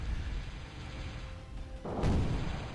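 A nuclear explosion as a fusion reactor is destroyed in the strategy game Zero-K: after faint low rumbling, one sudden broad blast bursts in and lingers as a muffled roar, fairly quiet overall.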